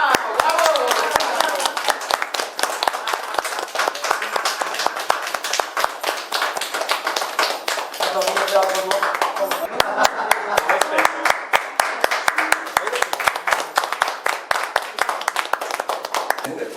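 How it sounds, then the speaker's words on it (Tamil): An audience claps steadily at a Tamil film audio launch in Paris, with dense, continuous hand claps, some individual slaps standing out, and no break for the whole stretch. "கைதட்டுங்க."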